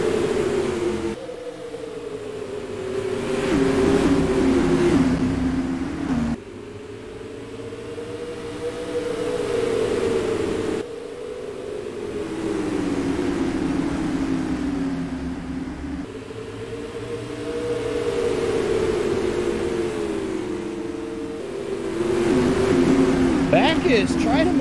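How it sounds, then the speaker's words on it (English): Race cars on an oval track in a 40-lap feature, engines droning and swelling in waves as they run side by side, with a commentator talking over the roar. "Side-by-side racing going on throughout the field."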